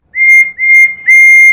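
Toby the tram engine's steam whistle sounds three times, two shorter blasts followed by a longer one, clear and close with a steady high tone and no talk.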